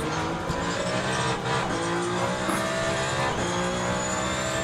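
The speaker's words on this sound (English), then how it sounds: "tyre scrub sound" Tyre scrub from a car losing front or rear grip in the Le Mans Ultimate racing sim, a steady close hiss and squeal of rubber running under continuous engine drone for the whole stretch.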